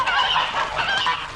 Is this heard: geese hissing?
yes